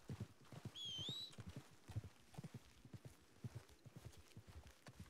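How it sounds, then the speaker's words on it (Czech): Horse hooves clip-clop at a walking pace in Red Dead Redemption 2, irregular muffled thuds close by, with a brief high whinny-like call early on and faint background game ambience. "Všude slyším koni."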